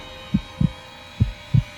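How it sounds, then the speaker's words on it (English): Muffled heartbeat thumps, four low dull beats in two loose pairs, close and soft over a faint steady hum, with no voices. "But for many minutes, the heart beat on with a muffled sound."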